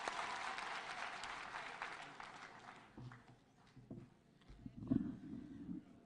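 Applause from a crowd at an outdoor political rally and prayer gathering in Nandi County, Kenya, a dense steady clapping over the first three seconds that thins into scattered claps and murmuring.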